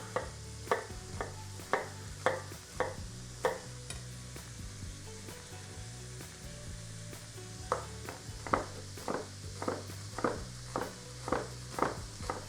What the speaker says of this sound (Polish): Po prostu taką dorwałem i taką kroję. Kroję w kostkę.